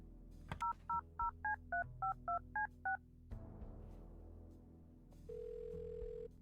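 Touch-tone keypad dialing in Kathy Rain 2: a quick run of about ten distinct beeps in an even rhythm, then a brief click and pause, followed by a steady, sustained line tone.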